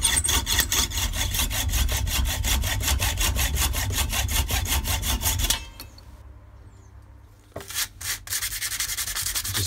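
A hand saw cuts through crushed plastic clamped in a vise for a crossbow bolt fletching jig. Rapid, even back-and-forth rasping strokes run loud and close for about five seconds, then stop; after a short pause the sawing resumes.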